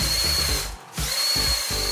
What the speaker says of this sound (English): First up, we have the Crusher machine, equipped with a front lined with sharp gears, almost like a powerful drill.